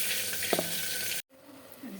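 Bay leaf, ginger, dried chilli and cumin frying in oil and ghee: a continuous bright sizzle with a brief scrape of stirring, cut by a momentary drop before a softer sizzle resumes.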